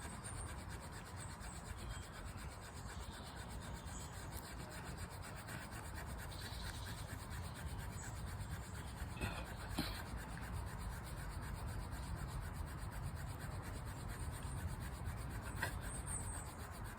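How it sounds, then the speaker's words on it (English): A fire plough is worked, one piece of wood rubbed hard against another in a steady, continuous scraping rasp that stays close and fairly quiet for the whole stretch, with no talking. "the fire plough is seen to be one of the simplest friction fire methods technology-wise, as it is simply rubbing two pieces of wood together"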